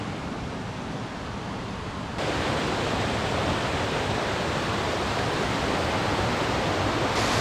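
Waterfall pouring in a rocky gorge, a dense steady roar of rushing water that jumps noticeably louder after about two seconds and stays close and constant, with no voices.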